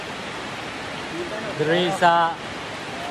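Heavy rain pours steadily in Barangay Aurora, a constant loud hiss from start to finish, with a voice speaking briefly over it midway.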